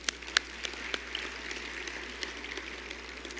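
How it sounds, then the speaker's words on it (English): Sparse, faint applause from an audience at a city's State of the City event, with scattered distinct claps over a quiet hall hum, thin and distant rather than a full ovation. "If you'd give them a round of applause"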